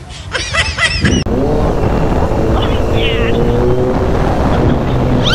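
Kawasaki H2 SX SE motorcycle riding with a passenger, a loud steady engine and wind roar running throughout, with voices briefly audible at the start.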